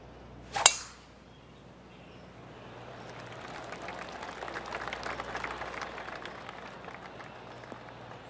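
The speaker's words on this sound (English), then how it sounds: "I can hear the golf claps around the course." A golf gallery in PGA Tour 2K25 breaks into scattered polite clapping after a sharp opening crack, the applause swelling gradually and staying fairly distant across the course.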